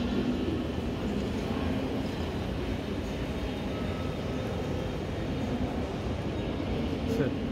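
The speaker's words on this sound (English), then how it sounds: "Coolest train station I've ever been in." Dense, steady hum of a vast indoor train station hall in Berlin, a wash of distant voices and footsteps with a faint rumble beneath, broad and reverberant.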